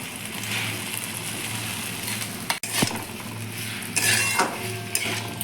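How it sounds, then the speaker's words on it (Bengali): Spiced masala with potato and hill squash stir-frying in a pan, a continuous close sizzle punctuated by scraping spatula strokes and a few metallic clinks against the pot. "এবার আমি ভালো করে এটাকে কষিয়ে নেব"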